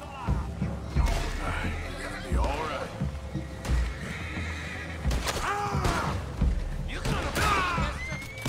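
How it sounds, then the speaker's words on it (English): A horse in a video game whinnies and neighs several times in bursts, with hoof clip-clops and game sounds underneath. "Cavalo ruim, com a carga nas costas."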